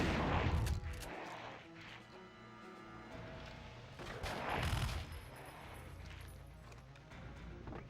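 Heavy gunshots and booming blasts in the Turok 3: Shadow of Oblivion shooter, a few loud bursts separated by quieter stretches carrying steady game sound, with no talk.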